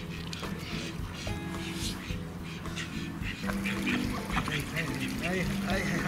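Ducks quack repeatedly in a noisy, busy cluster close by, with people talking over them.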